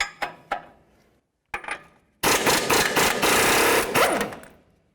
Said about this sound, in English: The next thing we need to do is remove our nut right down here on the lower aspect of the strut.